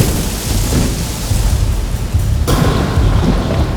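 A fierce storm in an animated Hindi moral story: rain hisses steadily beneath low, rolling thunder rumbles, with a fresh burst of noise partway through. No voices are heard.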